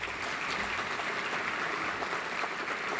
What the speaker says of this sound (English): Please, another round of applause for Kwaba Jukan.